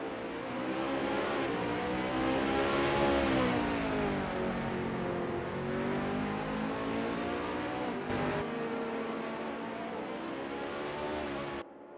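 A BMW M3 racing in Assetto Corsa, its engine revving loudly and continuously, with the pitch climbing and dipping through gear changes and no voices over it.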